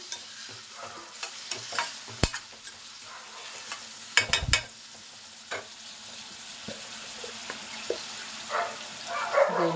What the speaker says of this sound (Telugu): శుభ్రంగా కడిగి పెట్టుకున్న ఈ పచ్చిరయలు వేసేసుకుందాం